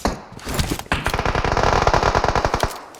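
Rapid automatic gunfire in the mobile battle royale game PUBG Mobile, a loud, close stream of evenly spaced shots in quick bursts, with a few single cracks before the sustained volley.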